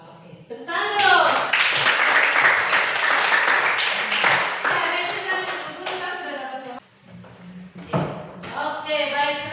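Children in an Indonesian school classroom clap together in a rhythmic clapping routine, loud and close, with excited voices chanting and talking over the claps throughout.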